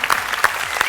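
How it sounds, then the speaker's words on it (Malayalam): Standing ovation for a singer on a comedy TV show stage, a loud dense burst of audience clapping filling the whole moment. "ഞാൻ ആദ്യം ഒന്ന് എഴുന്നേറ്റ് നിന്ന് കൈയടിക്കാം."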